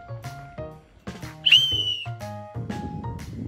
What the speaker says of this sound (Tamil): goals powerful whistle